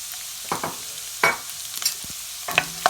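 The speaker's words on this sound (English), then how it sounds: "stir it till all the rawness of ginger and garlic goes" Finely chopped ginger, garlic and slit green chilies being stir-fried in a pan for a chilli chicken starter. A spatula scrapes and stirs in a few short, separate bursts over a faint, low sizzle.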